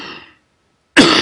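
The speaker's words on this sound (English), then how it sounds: "And I'm coughing as well." A single harsh cough or throat-clear bursts out loud and close at the end, after a fading murmur and a moment of silence.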